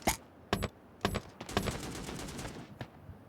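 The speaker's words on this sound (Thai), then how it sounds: "ได้ยินเสียงคนยิงปืนกันนะ" Gunfire in the online shooter game Sausage Man, a few sharp distant shots followed by a short automatic burst and one last crack, fairly faint against a quiet background.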